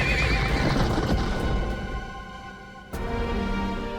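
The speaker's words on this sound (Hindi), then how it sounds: "महाराज, घोड़े तैयार हैं।" Horses whinny loudly and close by while hooves clip-clop in a quick clatter, a brief pause dropping the noise before another burst of neighing and movement resumes.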